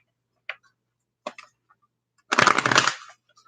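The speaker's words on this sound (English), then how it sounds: "One more shuffle." A deck of romance cards gives two quick, faint riffles, then one louder, fuller shuffle of about half a second, all close up in a quiet room.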